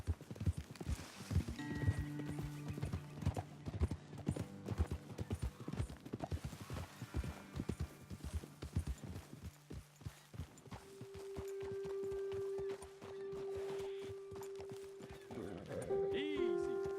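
Horse hooves clip-clop steadily in Red Dead Redemption 2, a close, rhythmic walking gait with a brief whinny, over a long stretch of sustained musical tones and occasional background voices.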